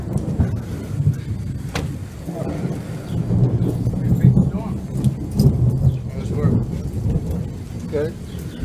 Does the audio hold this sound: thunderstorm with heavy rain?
yes